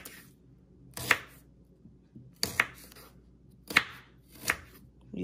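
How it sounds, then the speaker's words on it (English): Knife cutting through unpeeled ginger into thin slices on a board, four crisp, close chops spaced about a second apart over a quiet background, no talking. "we're gonna cut the ginger as thin as we can"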